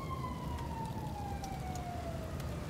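Emergency vehicle sirens in the game GTA V wail steadily with a slowly falling tone, loud and continuous over a constant rumble of traffic and engine noise.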